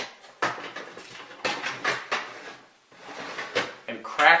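A metal oven rack is slid back inside an oven with several sharp metallic clanks and scrapes, close and fairly loud, with brief gaps between hits.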